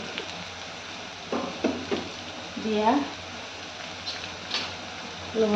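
Food fries in a home-cooking pan just after salt is added, a steady soft sizzle broken by scraping, knocking stirs of a utensil against the pan, with a brief voice in the middle.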